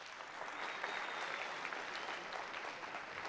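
A studio audience at the Popstar Alaturka show claps steadily as contestants are welcomed on stage, even and sustained but fairly faint in level.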